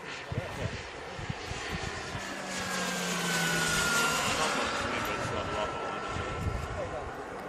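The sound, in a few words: turbine-powered RC jet landing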